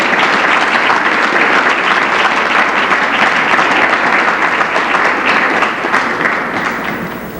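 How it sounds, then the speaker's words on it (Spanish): A church congregation claps during a Bible study sermon, loud continuous applause that holds steady and gradually fades toward the end. "¡Dale un aplauso al Señor!"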